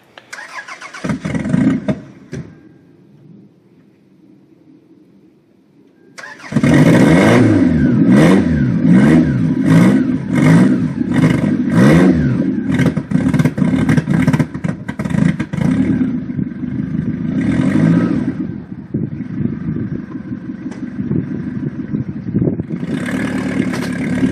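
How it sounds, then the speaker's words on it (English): A 1992-1996 Toyota Camry engine with a stand-alone wiring harness cranks and catches, settles briefly, then starts again and is revved repeatedly in sharp rising bursts before holding a rough idle between throttle blips. "With this harness, this car fires up right away, every time."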